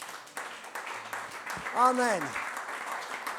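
A church congregation applauds steadily at moderate level, while a voice speaks over the clapping.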